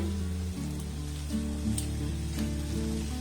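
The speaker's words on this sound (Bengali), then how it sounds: "এবার সমস্ত উপকরণ আমি খুব ভালোভাবে নাড়াচাড়া করে কষে নেবো গ্যাসের ফ্লেমটাকে লো রেখে" Potato and flattened rice frying in a pan over a low gas flame, a steady close sizzle with soft scraping from stirring running through, no voices.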